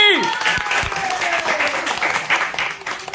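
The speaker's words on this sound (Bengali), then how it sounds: "হাততালি।" A crowd at an art competition result announcement claps loudly and continuously. A voice is briefly heard over the dense, even applause before it cuts off at the end.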